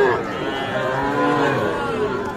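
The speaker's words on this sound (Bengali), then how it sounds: "এপাশে আমরা দেখছি ষাঁড় গরু" A young bull at the Ambari livestock market lets out one long, deep, steady low, loud and close, over a faint murmur of the crowd.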